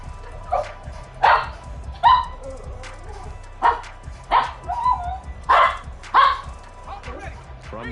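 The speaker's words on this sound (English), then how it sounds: "stop all that barking" A dog barks repeatedly in sharp, yippy bursts about once a second, close and fairly loud, under a steady low background hum.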